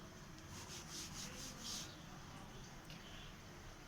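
Writing is rubbed off a board during a triangles geometry lesson, giving a faint, close scrubbing rasp in a few quick back-and-forth strokes over low room noise, with no talk.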